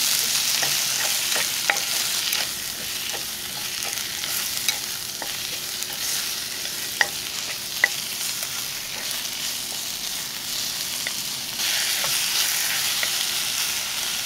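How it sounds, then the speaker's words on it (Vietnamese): Pickled mustard greens are stir-fried in a pot, giving a steady close sizzle with scraping stirs and occasional sharp clicks of a utensil, and no voices. "Tiếp tục mình cho cải chua vào xào."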